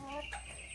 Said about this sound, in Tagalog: mga manok na nagsimula na pong maglimlim